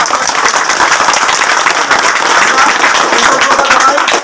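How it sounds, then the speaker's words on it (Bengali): A crowd at a political gathering in Assam's Barak Valley claps for the chief minister, a loud, dense and continuous wall of applause that stays steady from start to finish. "সবাইকে অনুরোধ করবো করতালির মাধ্যমে মুখ্যমন্ত্রী মহাশয়কে"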